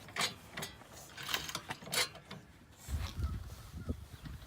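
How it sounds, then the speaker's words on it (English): A jack being cranked to raise a Lincoln MKX SUV for brake pad work in a driveway, giving repeated ratcheting clicks and mechanical clatter in irregular bursts, fairly close, with no talk over it. "helping me jack the car up. So I need it real high"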